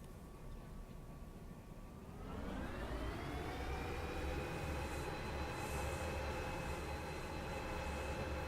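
A train in the video game Derail Valley rumbles steadily along the rails, its low roar swelling after a couple of seconds as tonal whines rise and hold above the continuous rolling noise.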